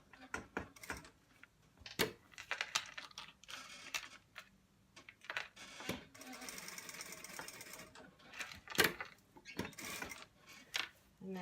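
A sewing machine stitches a hem on a boy's shirt in short bursts of rapid mechanical whirring, separated by clicks and handling noises, quiet and close, with a person speaking at moments.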